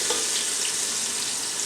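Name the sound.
ginger garlic paste sizzling in a pan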